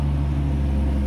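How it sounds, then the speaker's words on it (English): A loud pickup truck pulls up outside a home, its engine giving a steady, close, heavy low rumble that holds throughout without change. "my roommate just came home and he has a very loud truck"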